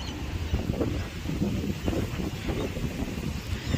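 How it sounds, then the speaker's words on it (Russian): Steady, blustery wind at Botany Bay, Australia rumbles and buffets the microphone with a constant low roar, gusting slightly throughout with no voices. "И ветер очень сильный дует."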